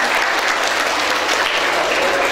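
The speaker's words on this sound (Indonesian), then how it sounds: "Terima kasih tepuk tangannya" A live audience applauds after a magic trick in which folded money is transformed, a dense, steady wash of clapping that fills the whole stretch at close range with no voices over it.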